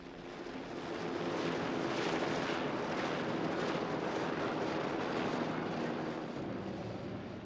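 Aero club helicopters fly overhead in Guatemala, producing a broad, steady engine roar that swells in at the start and holds loud and unbroken.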